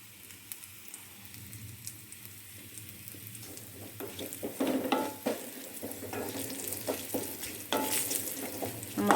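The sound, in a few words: stirring chili powder in pan for Kerala moru curry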